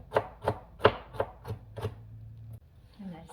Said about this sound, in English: Now we're going to chop our walnuts.